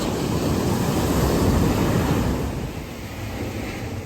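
Waves wash onto a beach in Canggu, Bali as a steady, broad roar of surf with some wind buffeting the microphone, continuous and fairly loud with no talking.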